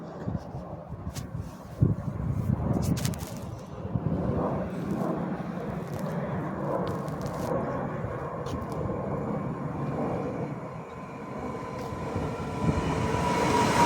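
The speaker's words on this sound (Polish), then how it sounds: "mamy wjazd Flirta do Warszawy Wschodniej" A Flirt electric multiple unit pulls into a Warsaw railway station, a sustained broad rumble and wheel noise rising and holding throughout, fairly close.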